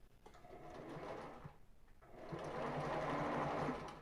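A sewing machine stitches a seam on a ribbed knit tank top, whirring in a short burst, pausing briefly, then running again in a steadier, louder run, close by and without talk.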